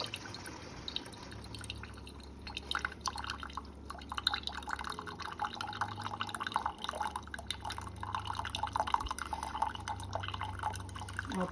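A Keurig coffee maker runs a hot-water brew cycle with no pod inside, producing a faint, steady trickle and patter of dripping water that lasts throughout.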